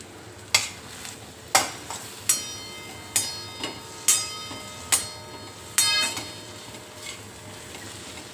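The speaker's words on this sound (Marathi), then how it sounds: "तेलात छान परतून घेऊ आपण" Turmeric, red chilli powder and mutton masala sauté in oil for a veg dalcha, a soft sizzle underneath a regular series of sharp metal spoon scrapes and clinks against the pan, roughly one every second.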